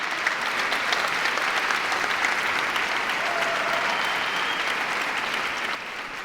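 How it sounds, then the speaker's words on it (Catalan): Audience at a theatre event in Sala L'Horta breaks into sustained applause, a dense steady wash of clapping hands that holds at full strength for several seconds and eases slightly near the end. "Demanem un fort aplaudiment per a ells."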